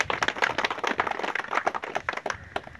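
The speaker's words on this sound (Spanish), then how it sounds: "un aplauso por el señor alcalde" A small crowd at an outdoor event at the Laguna El Obrajuelo natural park claps for the mayor, giving brisk, scattered applause for a few seconds before it thins out.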